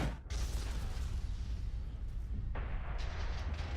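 A video game explosion roars as a loud, sustained rumbling blast, with a sharp onset and a fresh burst of crackling debris near the end.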